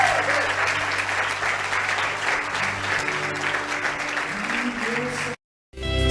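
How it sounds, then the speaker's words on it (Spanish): A church congregation applauds during a Spanish-language service, steady full-room clapping mixed with shouts and murmured voices, running continuously for over five seconds before cutting off abruptly, with a brief fragment of sound after the break. "Dale un aplauso al Rey"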